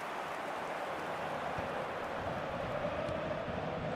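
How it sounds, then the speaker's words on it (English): A stadium crowd in the eFootball video game keeps up a steady, dense roar of cheering through the whole stretch, with no clear peaks and no commentary voice. "Certainly gave this crowd something to really cheer about."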